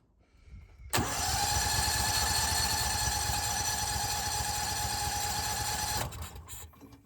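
The engine of a forgotten barn-find ARGO 6x6 with badly tangled wiring is cranked with the choke pulled; the starter churns loudly and steadily for about five seconds without catching, then cuts off.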